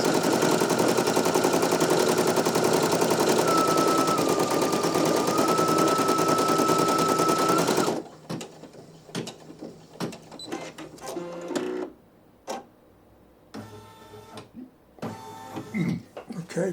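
Two Brother embroidery machines stitch the same design together, giving a loud, steady, dense mechanical chatter for about eight seconds before stopping abruptly, followed by quieter handling noises and scattered clicks.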